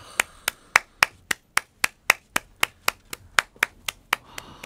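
A single pair of hands claps in a steady, even rhythm, about sixteen sharp, close claps at an award event for a faith essay contest.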